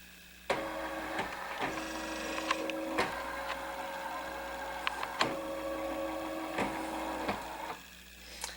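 A Designer 1 sewing machine's embroidery unit runs its calibration, whirring steadily with a series of sharp clicks and knocks as the carriage travels and hits its stops, ending with a quieter pause.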